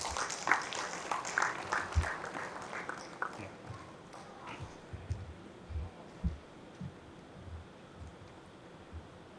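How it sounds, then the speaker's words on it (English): Audience applause after a felicitation at a conference session on natural refrigerants, heard as a brief burst of clapping early on that fades into diffuse room noise with scattered low thumps. "Big round of applause, ladies and gentlemen."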